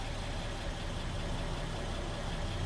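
A 1962 Chevrolet C10 pickup idles quietly, a steady, even low engine hum and hiss with no change in pace across a few seconds, and nobody speaking.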